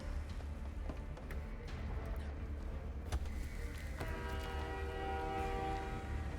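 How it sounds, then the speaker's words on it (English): Train noise inside a video game: a low, steady rumble of rolling carriages plays throughout, with sustained horn-like tones rising in the second half. The sound stays fairly quiet and even, with no speech over it. "Oh, I love train noise."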